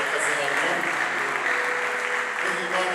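A congregation applauds at a church choir performance, sustained dense clapping that fills the hall while a voice talks over it.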